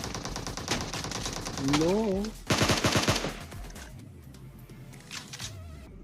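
Rapid automatic gunfire from a first-person shooter video game, loud bursts in quick rhythm with a brief pause midway, while someone talks over the action.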